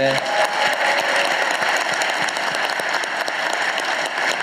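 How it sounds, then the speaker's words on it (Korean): Dense applause from a crowd at a town hall meeting in North Chungcheong, South Korea, steady and loud for the whole stretch, many hands clapping close by with no talk over it. "박수 한번 보내주십시오"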